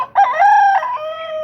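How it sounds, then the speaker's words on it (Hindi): A hen crows once, close and loud, a short strained call rising and then trailing off, alone with no voices. "मुर्गी ने बांग भी दे दिया"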